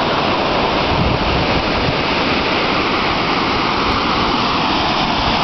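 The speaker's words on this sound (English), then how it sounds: "And there's the middle waterfall." Middle waterfall at Glen Iris: a loud, continuous broadband roar of falling water, close and unbroken throughout, with no voices.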